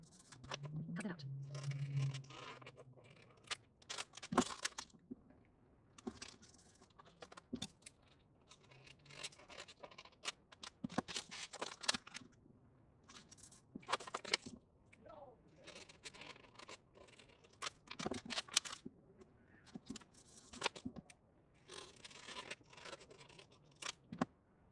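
Scissors cutting out printable paper pieces for a planner folio craft, a steady run of short snipping and paper rustling with occasional clicks, close and fairly quiet, carrying on through most of the stretch with a voice talking at times.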